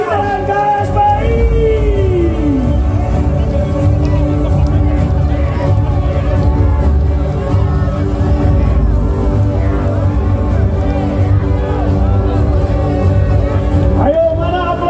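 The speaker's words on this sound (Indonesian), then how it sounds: "Aplaus buat Bang Said Iqbal" Large crowd at an Indonesian labour rally, steady dense roar of cheering and babble throughout, loud and continuous with a voice over a PA rising above the noise.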